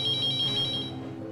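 A telephone ringtone trilling in a rapid repeating electronic pattern, loud and close, alone for about a second before fading slightly.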